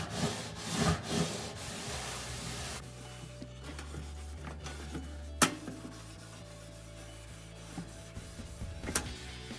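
Gentle circular wiping of a kitchen surface with an Enjo fibre cloth, giving soft, close rubbing and scrubbing strokes that come in uneven bursts, with a few sharper knocks and quieter stretches between them.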